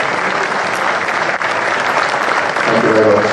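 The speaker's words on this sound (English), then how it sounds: "please give us a round of applause for our expert witnesses" A live audience at a retro gaming expo debate on Commodore 64 versus ZX Spectrum bursts into steady, dense applause that fills the hall evenly from start to finish, with faint voices mixed into the clapping.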